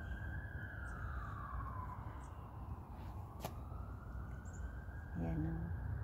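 Emergency sirens from a police car, ambulance and fire truck, a wailing tone sweeping up and down at moderate distance over steady background rumble, with a brief voice near the end.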